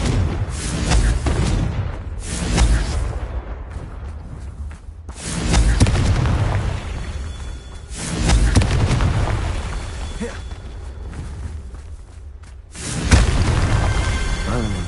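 Confringo blasting-curse explosions in Hogwarts Legacy on PS5, a series of heavy booming blasts at irregular intervals, each one loud and deep with a rumbling tail that fades between hits.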